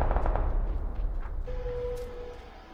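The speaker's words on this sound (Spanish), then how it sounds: "Acá arriba se escuchan tiros también" Dense bursts of gunfire from a video game crackle and rumble continuously, fading slightly over a few seconds, with a steady tone emerging midway.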